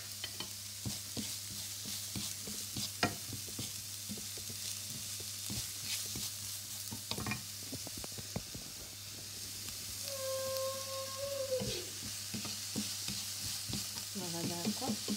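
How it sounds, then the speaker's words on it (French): Onions sweating with a little salt in a pan for a sandwich filling, a steady sizzle under repeated stirring and scraping, with faint clinks and a brief squeak of utensils. "Là je vais faire suer mes oignons avec un petit peu de sel."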